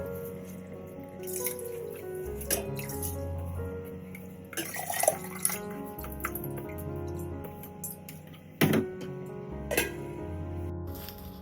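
Rice is washed under running tap water in a kitchen sink, with water splashing and trickling in bursts and sharp clinks and knocks of the pot scattered throughout, close and moderately loud.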